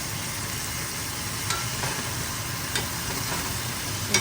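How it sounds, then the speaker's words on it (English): Steak tips seasoned with salt and pepper sizzle in butter in a cast iron pan, a steady broadband hiss running throughout with a few faint pops and crackles. "Steak's going. Got butter in the cast iron"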